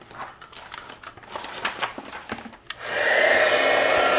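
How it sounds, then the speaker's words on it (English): A handheld heat tool switches on to heat-set embossing powder for a craft background, starting after some light tapping and handling noises and then blowing as a loud, steady whooshing hum. "Now we're going to heat set that."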